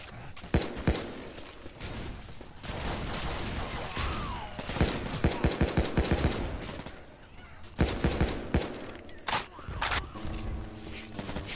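Rapid bursts of gunfire in the video game Left 4 Dead 2, single shots mixed with automatic volleys, crackle over a busy background throughout.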